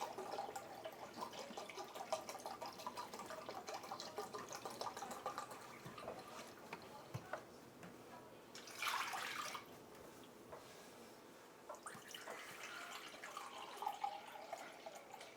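Chicken broth poured from a carton into a measuring cup in a home kitchen, a faint splashing trickle of liquid running quietly with brief louder gushes, no talk.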